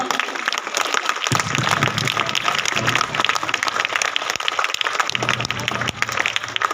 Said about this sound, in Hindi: प्लीज जोरदार ताली चेयरमैन सर